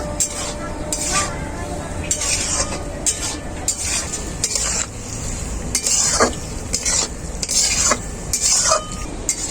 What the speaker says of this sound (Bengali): এখন আমি দিয়ে দেব সেদ্ধ করা ছাঁচি কুমড়ো ছাঁচি কুমড়োটাকেও আমি খুব মশলার সাথে একটু কষিয়ে নেব